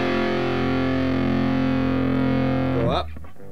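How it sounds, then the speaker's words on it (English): A single electric guitar chord, an E, played with heavy distortion and held so it rings out thick and sustained for about three seconds before it is cut off and dies away. "you just crank up the distortion"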